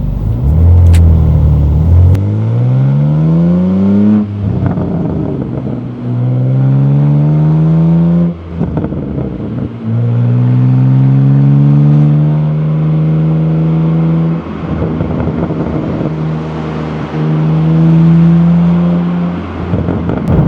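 A loud BMW G87 M2 engine with an AWE SwitchPath exhaust revs and drops repeatedly in sport mode with a deep burbling exhaust note, rising in pitch on each pull, close and continuous with no talking.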